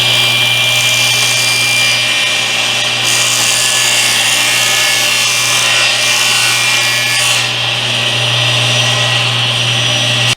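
A saw cutting through wood guided on a sled, a loud continuous motor whine and cutting rasp that holds steady for about ten seconds without a break.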